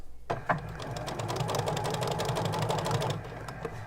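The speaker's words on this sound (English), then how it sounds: "My first stitch is going to be at the edge. So let's sew them." A sewing machine stitches the edge of fabric bunting flags, a close, steady mechanical whir with a fast rhythmic needle patter running for a few seconds without any voices.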